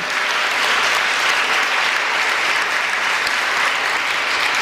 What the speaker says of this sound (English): Another round of applause for Paul DeVan